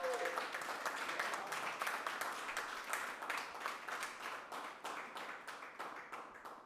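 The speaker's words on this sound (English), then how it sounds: "Let's have one final round of applause." An audience at a moot debate claps in a sustained round of applause, fairly quiet and slightly distant, with individual claps growing more distinct as it tapers off.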